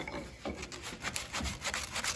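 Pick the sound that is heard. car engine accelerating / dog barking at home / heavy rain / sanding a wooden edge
sanding a wooden edge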